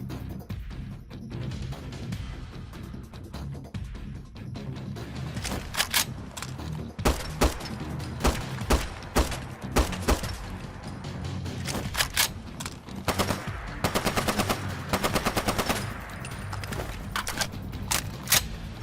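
FN SCAR-H battle rifle fired in Fallout 4, heard as close, sharp bursts of rapid shots in several strings with brief pauses between volleys, alone without talk.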